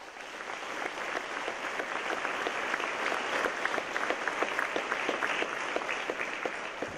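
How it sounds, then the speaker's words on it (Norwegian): Sustained applause from a concert audience at the opening concert of a national folk dance festival, an even, fairly distant patter of many hands clapping steadily from start to finish without talk over it. "Kan godt gi dem en applaus."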